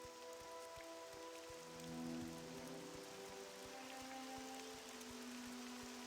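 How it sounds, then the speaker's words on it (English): Modded rain falling in the video game Morrowind, played through OpenMW: a steady, even patter across the whole stretch, with a low rhythmic tapping and soft ambient tones beneath it. "I did download a mod that changes the rain"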